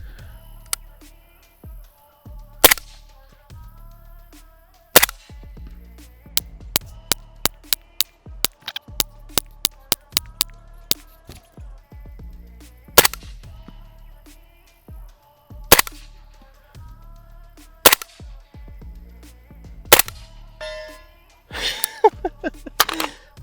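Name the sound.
Sig MCX Rattler firing 220 grain subsonic rounds at steel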